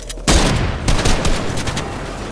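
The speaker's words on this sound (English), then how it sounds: "I'm gonna shoot you down with my wood arc." Gunfire in the video game Fortnite, a sharp burst followed by a rapid string of loud overlapping shots and echoing cracks, dense and close, with no speech over it.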